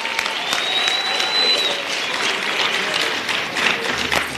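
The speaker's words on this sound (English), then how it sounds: "Can we give him another round of applause, comrades?" Sustained audience applause and clapping at an ANC political meeting honouring a Secretary General's keynote address, a dense steady crowd sound lasting throughout with a faint whistle-like tone early on.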